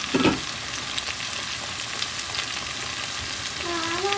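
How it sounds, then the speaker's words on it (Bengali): Pre-fried paneer tipped into a pan of sizzling spice masala: a brief clatter as it lands, then steady close frying hiss with light stirring. "এবার এর মধ্যে দিয়ে দিচ্ছি আগে থেকে ভেজে রাখা পনির"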